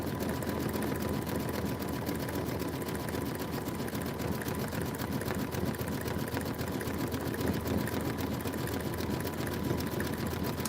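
A sewing machine stitches along a seam allowance, running continuously at a steady fast rhythm with a constant mechanical whir, close and fairly loud with no talk.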